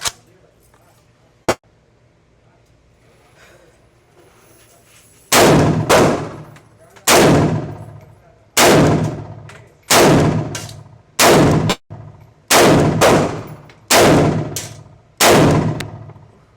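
Draco pistol fired at a range target from 10 yards, a series of about ten loud, sharp gunshots spaced roughly a second apart, each with a ringing tail, after a quiet lead-in with a faint click.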